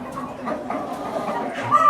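A white Indian rooster on a partridge farm clucks in short, close bursts against a busy farmyard background, with other fowl faintly audible.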